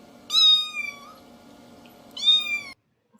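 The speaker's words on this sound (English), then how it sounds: "At home, she was welcomed by her pet kitty, the cat," A pet cat at home gives two clear, drawn-out meows close by, about two seconds apart, over a faint low hum, with no talking.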